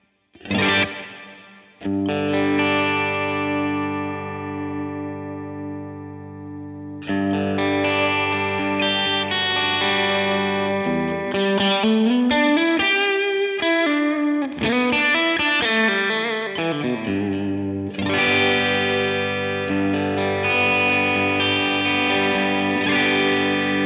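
Electric guitar played through reverb on a Line 6 Helix with the stereo modulation switched off, ringing distorted chords and sliding notes that sustain loudly with a long, even decay and no talking.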